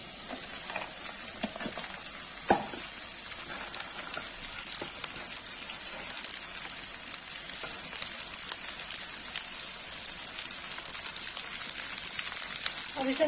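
Okra and onion frying in a pan, a steady dense sizzle with a bright hiss running continuously, a few faint utensil knocks, and a voice speaking softly underneath.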